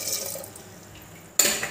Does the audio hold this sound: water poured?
yes